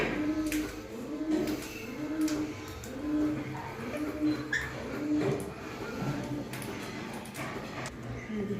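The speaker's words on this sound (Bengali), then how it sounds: "একটা পায়রা, আরেকজন আসেনি, এসে মাঝে মধ্যে একটু ডাকছিল, ঘুম ঘুম করে ডাকে" A pigeon coos softly in a repeated low rhythm, several rounded calls close by, with faint ticks and rustles around it.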